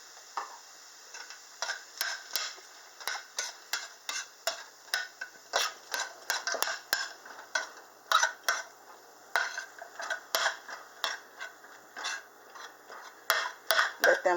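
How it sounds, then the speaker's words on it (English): Frozen peas and carrots stirred in a pan for beef fried rice, a quick series of soft clinks and scrapes of the utensil against the pan over a faint sizzle. "I'll just stir them around for a minute"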